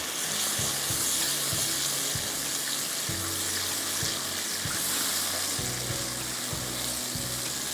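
Chopped tomatoes hit a hot frying pan and a loud, continuous sizzle fills the space, with soft knocks of stirring underneath.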